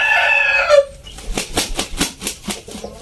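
A Japanese Shamo stag rooster flaps its wings in a burst of rhythmic beats close by, after a short crow-like call at the start.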